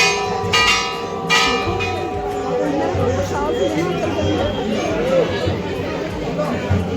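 Bells ring at the crowded Chintpurni hill temple in Himachal Pradesh, a few bright metallic strikes with lingering ring over a constant loud murmur of worshippers talking nearby.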